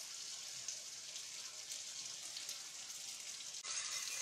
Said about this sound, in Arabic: هلا رح نترك الكريمة تغلي